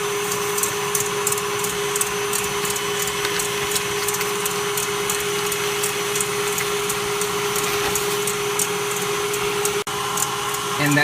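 A mixer whips egg whites with cream of tartar and granulated sugar for macaron meringue, a steady motor whir with fast rhythmic ticking of the beaters that runs unbroken.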